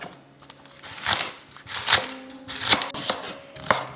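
A knife chops vegetables for a coleslaw salad on a cutting board, giving about five crisp, close strikes in an uneven rhythm.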